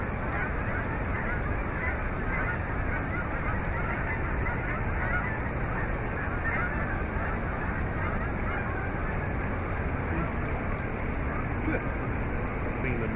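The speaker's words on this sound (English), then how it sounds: "Those are pretty big birds." Big birds, apparently geese, honk repeatedly at close range in a loud, dense chorus that continues throughout, with people talking over the calls.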